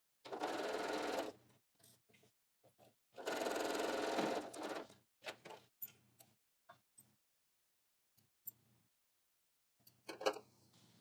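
A sewing machine basts an apron pocket in short bursts of rapid stitching separated by pauses and a few light clicks, heard close with no talking.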